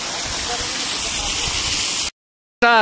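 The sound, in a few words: large waterfall roaring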